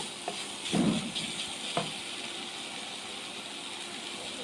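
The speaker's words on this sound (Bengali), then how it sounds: "আমি এটা একদম ভাজা ভাজা করবো।" Samosa filling of cabbage and carrot fries in a pan with a soft, steady sizzle, a brief louder stir or sputter near the start, no talking.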